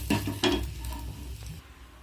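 Curry leaves hit hot oil in a village kitchen while making rava snacks, giving two sharp crackling bursts and then a softer sizzle that fades, close and fairly quiet.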